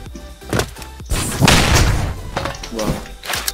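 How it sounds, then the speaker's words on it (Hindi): A grenade launcher in the battle royale game Ark of Horizon fires with a few punchy thumps, then a loud, broad explosion booms and rolls on for about a second, with more dull impacts trailing after. "Grenade launcher."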